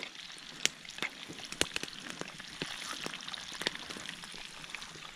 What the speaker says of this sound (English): You hear the sizzle.